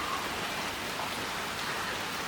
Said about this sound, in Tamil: காத்தாலே எங்கள் ஊரில் கொஞ்சம் மழை பெய்யுது.